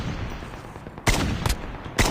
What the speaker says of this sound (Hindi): दोनों तरफ से गोलियां की आवाज़ आ रही है।